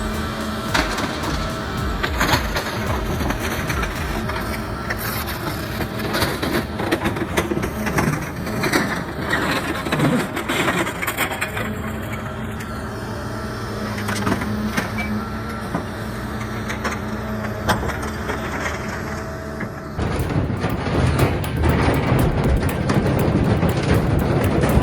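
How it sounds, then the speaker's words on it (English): Industrial shredding machine crushing metal, a dense continuous grinding and crunching roar with scattered cracks and clanks that grows louder near the end. "Watch as these colossal machines obliterate everything in their path, from small scraps to massive chunks of metal."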